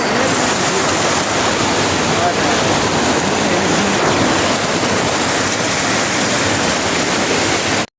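Floodwater rushes through a waterlogged work site and overflowing drain, a loud, steady roar of flowing water that continues without break and cuts off abruptly at the end.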